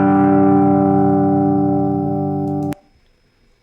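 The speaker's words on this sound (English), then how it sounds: "Arctan or tan inverse distortion." Electric guitar strumming a G chord through arctan (inverse tangent) distortion: one loud, buzzy, sustained chord that rings for almost three seconds, then cuts off abruptly, leaving near silence and a faint click.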